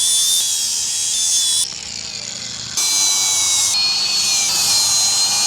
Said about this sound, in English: Now I'm just cleaning up the base metal so I can weld it.